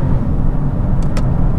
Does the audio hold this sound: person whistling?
no